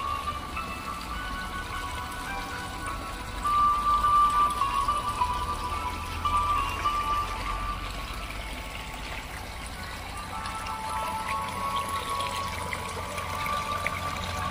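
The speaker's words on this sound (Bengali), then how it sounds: "এ জল কেবলমাত্র পড়েই যাচ্ছে, এর শেষ নেই" Water runs steadily down a hillside stream channel, a continuous rushing wash with a faint ringing tone on top, moderately close and unbroken for the whole stretch, with no voices.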